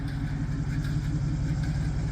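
A 1966 Pontiac Catalina wagon engine idles after a test ride, giving a steady, fairly close low rumble that holds even throughout with no talk.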